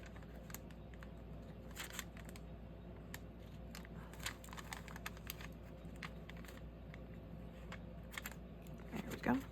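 Scissors snip the corner off a paper napkin, making quiet, scattered clicks and crisp snips against a faint background hum over about ten seconds.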